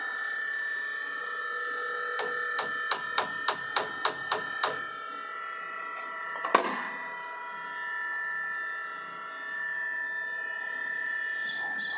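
A hammer lightly taps a workpiece during VMC machine setup: about eight quick, evenly spaced metallic knocks, then one firmer strike a couple of seconds later, over a steady machine hum.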